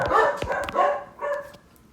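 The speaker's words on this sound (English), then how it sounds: "My dogs are going crazy again." Dogs barking in a house, several loud, close barks in quick succession, tapering off to a softer final bark, with no talking.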